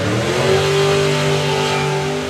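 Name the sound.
drag racing vehicle with bike engine revving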